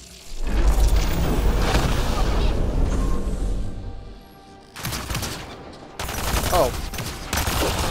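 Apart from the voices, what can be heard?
sniper rifle fire in Mass Effect Andromeda video game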